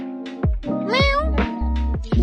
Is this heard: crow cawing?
no